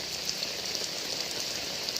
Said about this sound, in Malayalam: ഇപ്പോഴും മഴ തുറന്നുകൊണ്ടിരിക്കുകയാണ്